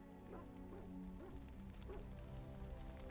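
A dog barking in the Dragon Age: Origins video game, several quick yapping barks in a rhythmic run, faint and set against a steady musical drone.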